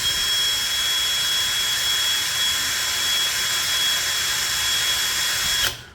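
A DCK KDJZ23-10i 12V brushless drill runs steadily at its second speed setting, a close, even high-pitched whine that stops abruptly near the end.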